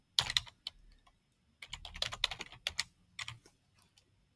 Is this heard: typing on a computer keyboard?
yes